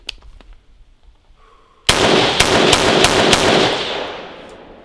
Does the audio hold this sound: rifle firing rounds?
yes